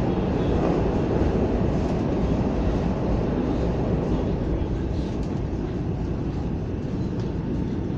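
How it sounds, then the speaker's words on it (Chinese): An airport MRT train on the Taoyuan line rumbles along at speed in a loud, continuous roar heard from inside the car. The noise stays steady throughout with no clear voices. "现在列车呢，已经到了外面。"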